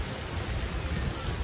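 Steady rain pours during a cat rescue from a golf course fence, a dense, even hiss of falling drops that holds close and constant throughout.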